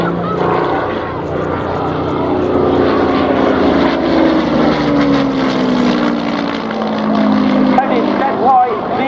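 Hawker Hurricane Mark IIC propeller fighter in all-black night fighter scheme flying at an RAF airshow, its piston engine droning loud and steady throughout with shifting pitch as it passes, with a voice talking over it.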